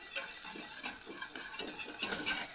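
A spoon stirs caramel in a pan, making a steady run of soft scraping, clinking strokes at close range, with no voices.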